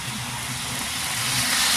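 An Athearn HO scale model train engine runs at full speed, giving a steady whirring motor hum with a broad hiss that swells slightly as it passes close by.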